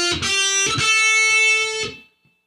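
Distorted heavy metal electric guitar plays a short fretted pattern, a few picked notes that ring into one sustained note before cutting off, close and loud with no voices.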